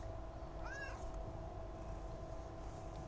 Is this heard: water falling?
no